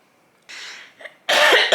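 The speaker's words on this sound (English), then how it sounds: "I have never coughed so much while filming a video." One person coughs several times close up, in harsh bursts broken by short gaps, and the final coughs are the loudest.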